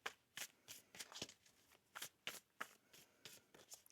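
A deck of Moonology oracle cards is shuffled close by, a quick series of crisp riffling bursts in uneven rhythm, quiet and alone.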